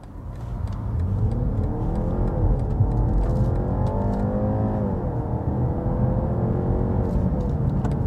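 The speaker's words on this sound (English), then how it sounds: "Let's see if this car can accelerate." A BMW 530e plug-in hybrid sedan accelerates hard in sports mode, its engine note rising steadily in pitch over several seconds with a constant tire and road roar beneath, close and continuous from inside the cabin.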